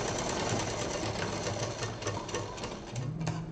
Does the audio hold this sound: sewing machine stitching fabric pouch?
yes